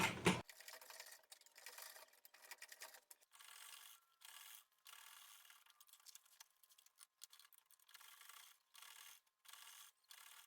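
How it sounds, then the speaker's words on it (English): A sewing machine stitches a jute tote bag in a run of short, quiet mechanical bursts separated by brief pauses. "go ahead and continue sewing"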